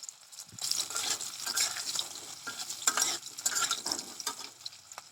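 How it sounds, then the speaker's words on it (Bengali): Papaya pieces seasoned with salt and turmeric frying in a pan, stirred with repeated scraping strokes over a bright, crackling sizzle that rises and falls in rhythmic bursts, close and alone. "এবার আমার পেঁপেটা দেখো ভাজা হয়ে গেল।"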